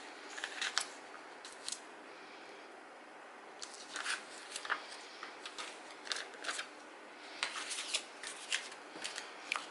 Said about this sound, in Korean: 원단을 자르실 때는 늘 잘 드는 가위로 하시는 게 좋아요